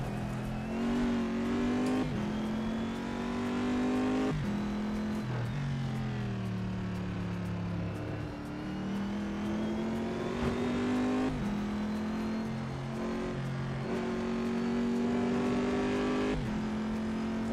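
Race car engine in the sim-racing game Assetto Corsa, revving steadily with rising and falling pitch as gears change, loud and continuous throughout with no talk over it.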